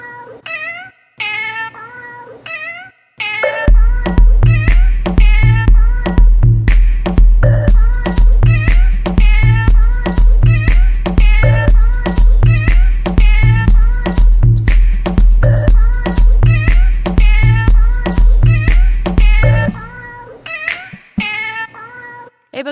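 Cats meowing repeatedly in a rapid, steady series of loud, close calls over a continuous low hum, with a few scattered meows before and after the main run.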